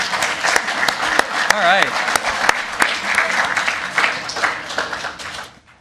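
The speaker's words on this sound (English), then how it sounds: "give them a round of applause" A public meeting audience claps for guest speakers at an animal-themed annual gathering, brisk and moderately close, while someone speaks briefly over it; the clapping thins and fades out toward the end.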